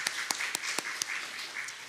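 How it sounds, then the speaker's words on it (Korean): A congregation at a Sunday church service applauds, several sharp, evenly spaced claps standing out over a soft, fainter bed of clapping that trails off after about two seconds. "우리 하나님 앞에 영광의 박수 올려드리도록 하겠습니다"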